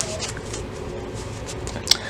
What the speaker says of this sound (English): I'm getting a good shuffle in.